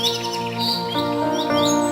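A cartoon bird chirps in short, bright tweets while building its nest in a mango tree, with a steady musical backing underneath throughout.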